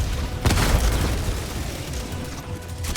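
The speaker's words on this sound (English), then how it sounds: "Neat little airstrike." An airstrike in Helldivers 2, during a solo Automaton mission, explodes in one heavy, loud boom about half a second in. A rumbling, crackling tail continues under steady game noise.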